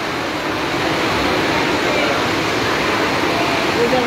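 Water pours and gushes steadily from an overflowing drain pit at an airport, a continuous rushing wash, loud and close with no pause.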